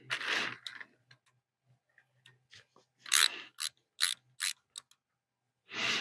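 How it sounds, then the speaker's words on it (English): Screws being removed from a valve on a TYM T474 tractor, heard as quiet ratcheting clicks and short metallic ticks in scattered bursts, close and faint with pauses between them. "Let's take these screws out."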